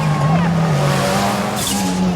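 Rallycross race cars roar hard around a dirt track at Sigiriya, engines droning loud and close under continuous excited commentary, with tyres scrabbling and a car sweeping past.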